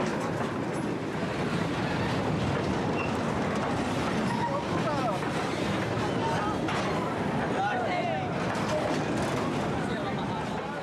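A moving freight train rolls past at speed near the Mexico–Texas border, a loud continuous rumble with rattling wagons and occasional squeals of metal throughout.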